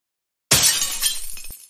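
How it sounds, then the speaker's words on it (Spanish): A vase falls and shatters after silence, a sudden loud crash of breaking glass followed by scattering, tinkling fragments that fade over about a second. "¿Rompí el jarrón?"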